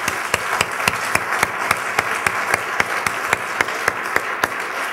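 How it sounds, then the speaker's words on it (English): A conference audience claps for a morning business panel, a sparse crowd giving distinct, fairly loud individual claps at a steady quick rhythm for about five seconds, with no voices. "Let's give a round of applause to our panel this morning"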